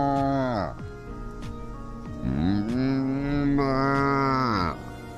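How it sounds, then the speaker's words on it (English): A cow moos in two long, drawn-out calls with rich harmonic tone, the second rising and holding before trailing off, loud and close, with a steady background hum. "Hey, Cortana, what does a cow sound like?"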